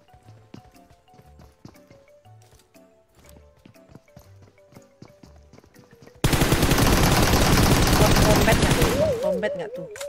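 Rapid automatic gunfire from a shooter video game, a burst of dense, loud rattling shots after a stretch of softer scattered in-game sounds, ending with a brief electronic warble.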